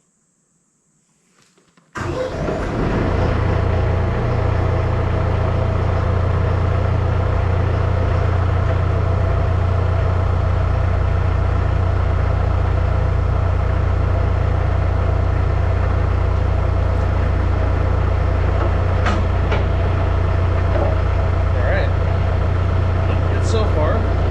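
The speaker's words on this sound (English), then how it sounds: "I'm gonna turn the tractor on and see if I can use the controls to wiggle this back and forth" A Branson BH76 backhoe tractor engine starts and then runs steadily close by, a loud continuous diesel drone with a strong low rumble that holds unchanged.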